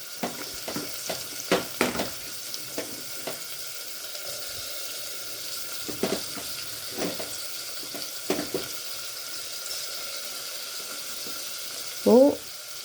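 Chopped onion with a little salt sautéing in a pan for a beetroot and green gram kootu, a steady soft sizzle with occasional stirring scrapes and clinks, fairly close, no talk.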